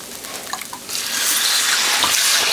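A 14.5 ounce can of beef broth pours into a hot pan with stuck tomato paste, starting with a few splashy glugs and then a steady, close, rushing pour with no talk.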